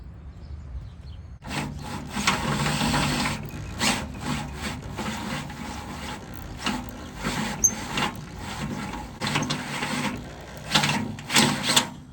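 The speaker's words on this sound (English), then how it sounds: "So we'll get these holes drilled" Harsh grinding and scraping of a drill boring holes in a steel road scraper cutting edge, in uneven bursts with short pauses between passes and no talking.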